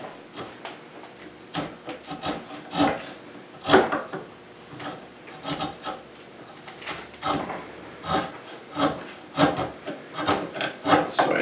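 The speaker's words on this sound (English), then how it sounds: "So I try to carve a little bit off from the left, a little bit from the right." Hand chisel carving a rough wooden guitar neck, with repeated short scraping and shaving strokes in an uneven rhythm, close and fairly loud, no talking.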